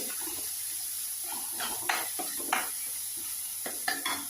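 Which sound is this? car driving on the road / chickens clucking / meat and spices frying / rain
meat and spices frying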